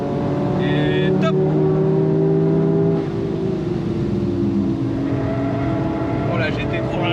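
A Toyota Yaris GR race car engine drones loudly at steady high revs while chasing GT3 cars on track, with a voice speaking over the cabin noise.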